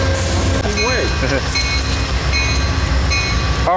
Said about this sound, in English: Southwest Chief number 4, departing Fullerton